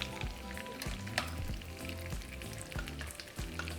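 Refried bean taquitos fry in hot oil with a steady, faint sizzle and crackle, broken by a few soft knocks and clatters as they are moved in the pan.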